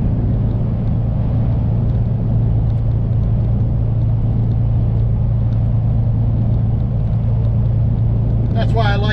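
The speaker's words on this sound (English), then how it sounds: "More wind noise than what I'd like" Steady broadband wind and road roar inside a moving truck, a continuous low rumble with hiss that stays loud and unbroken throughout, with a brief higher scrape near the end.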